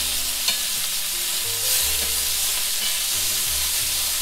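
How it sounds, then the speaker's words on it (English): Lamb loin chops frying in a pan just after being flipped, giving a steady close sizzle and crackle with a faint hiss of steam, continuous and alone without talk. "we're going to go ahead and give our lamb loin chops this nice flip."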